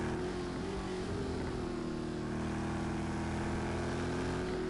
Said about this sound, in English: His car is very loud.